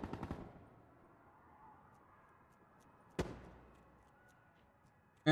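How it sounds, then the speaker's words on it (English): Nail gun fired in Black Ops 3: a quick burst of sharp shots at the start, then a single loud crack near three seconds, with faint game ambience between. "Oh, the nail gun's so annoying."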